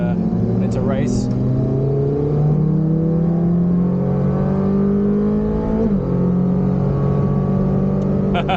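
A sports car engine in race mode pulls hard through rising revs inside the cabin, a loud steady drone with a brief gear-change dip, while someone talks over it.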